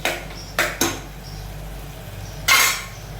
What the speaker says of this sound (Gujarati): એમાં ટમેટા પણ નાખી દઈએ અને ટમેટા હલાવી નાખીએ